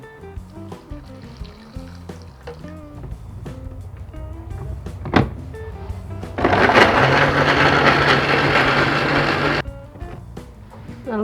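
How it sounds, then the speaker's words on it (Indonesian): A kitchen blender whirs loudly for about three seconds while grinding candlenut with water, preceded by clattering and faint background sounds. "Kita kemirinya di blender dengan air."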